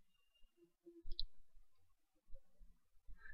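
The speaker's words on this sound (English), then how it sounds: "Double click on this application." A computer mouse gives a quick, crisp double click, faint and close against near silence.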